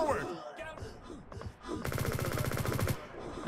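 Rapid SMG fire in Liblast, an open-source online first-person shooter built with Godot 4, comes as one dense, loud burst of about a second, following a stretch of speech and other game sounds.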